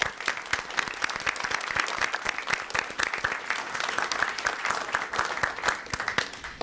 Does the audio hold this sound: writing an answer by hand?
no